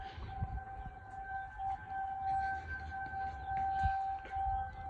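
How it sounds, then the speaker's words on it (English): A Monroe County civil defense siren sounds during its monthly test, a loud steady wail holding two sustained tones throughout, heard close with no talk over it. "Just imagine if you were standing right next to that siren."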